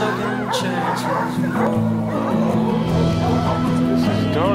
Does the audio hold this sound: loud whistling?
no